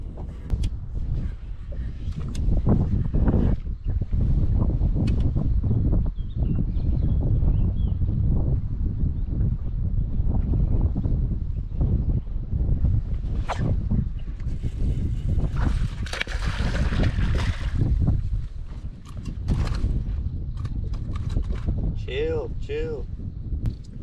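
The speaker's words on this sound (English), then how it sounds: "while it's super windy and I'm waiting for these storms to pass" Heavy wind roars steadily against the microphone on a Ranger fishing boat during storms, a constant low rumble with water splashing now and then and someone talking beneath it.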